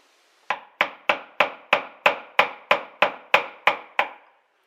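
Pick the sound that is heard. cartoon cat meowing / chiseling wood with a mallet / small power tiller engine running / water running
chiseling wood with a mallet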